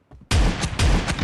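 Booming shotgun blasts in a shooter game's team deathmatch, two heavy close shots in quick succession, each a loud burst with a short rumbling tail.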